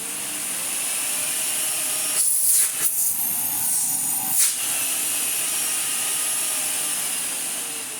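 Modified vacuum cleaner with an RGB light strip running on its lowest setting, a steady loud whooshing roar whose pitch briefly dips and shifts as it is moved about, with no talk.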